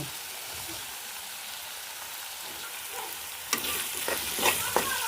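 Bitter gourd and potato fry in a pan with a low, hushed sizzle that turns louder and crackly partway through, joined by a few brisk stirring scrapes.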